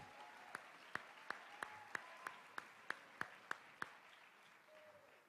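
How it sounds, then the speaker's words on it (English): At a college student-athlete awards night, about a dozen distinct claps ring out at an even pace, fairly faint against a quiet room, then stop. "one more large round of applause for all of our award winners tonight"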